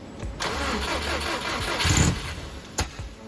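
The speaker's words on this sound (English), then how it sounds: "We then tried starting the car again," The engine of a Subaru Impreza GC8 project car cranks without catching. A near, steady churning of the starter runs for a few seconds, with brief clicks and bursts and no talking.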